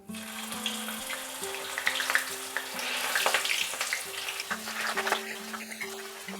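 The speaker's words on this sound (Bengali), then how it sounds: "তেলটা খুব ভালো মতো গরম হয়ে গেলে আমরা এই আলুগুলোকে ফ্রাই করে নেব" Potatoes frying in hot refined oil in a wok, a steady close crackling sizzle with bright spitting pops, alongside a faint musical tone.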